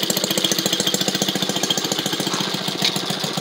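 An old Maytag washing machine runs with an exposed, uncovered pulley, giving a fast, steady mechanical chugging and knocking that stays loud and close throughout, with no talk.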